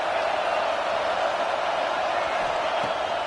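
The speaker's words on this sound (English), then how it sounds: "This crowd still bringing the intensity to open the second half." A stadium crowd at a football game roars steadily at the opening of the second half, a dense continuous wash of cheering that stays loud and unbroken throughout.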